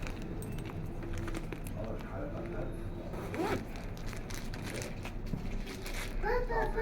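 Zipper on the back of a mirror-copy designer handbag being pulled, a soft rasping run close up under ongoing background chatter and handling noise.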